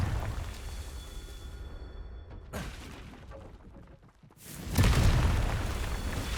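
Confringo fire spell explosion in Hogwarts Legacy, heavy booming blasts with a sharp rushing attack, a loud burst near the end followed by rumbling decay over continuous game ambience.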